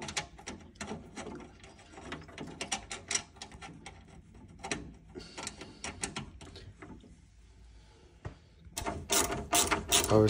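A ratchet tightening the front panel screws on a Potterton Promax 12HE boiler gives close, rapid bursts of mechanical clicking. Short pauses separate the bursts, and a louder, sharper run of clicks comes at the end.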